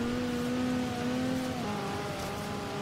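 A Datsun 510's four-cylinder engine in the racing game Forza Horizon 3 holds a steady, droning high-rev tone, then shifts pitch as it changes gear, loud and continuous with no talk.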